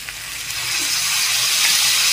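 Bottle gourd stems with poppy seed paste, turmeric, salt and a splash of water being stirred in a hot pan, a steady close sizzle and scraping that grows slightly louder, with no talking.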